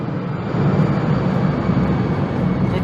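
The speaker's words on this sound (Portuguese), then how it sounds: "Deixa o avião passar para poder ouvir." A steady, loud roar of an airplane passing overhead, a broad rushing drone that holds constant with no talking.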